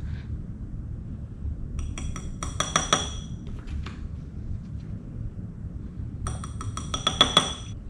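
A small spoon clinks against a container while thermochromic pigment is added to slime, giving two bursts of bright metallic taps, one around the middle and one near the end, over a low steady background hum.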